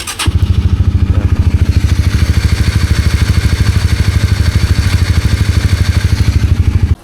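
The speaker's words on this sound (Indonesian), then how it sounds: "Untuk suara mesin masih enak ya." Vehicle engine idling close by with a fast, even pulsing throb and a light mechanical clatter, steady and loud for several seconds before cutting off abruptly at the end; no talking.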